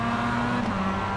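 A race car in the iRacing video game at Indianapolis Motor Speedway draws close alongside, a loud, steady engine drone holding a high pitch that shifts slightly downward as it passes.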